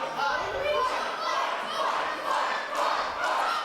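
Wrestling crowd at a British pro wrestling show shouting and chanting impatiently, a dense, loud wall of voices swelling in repeated waves.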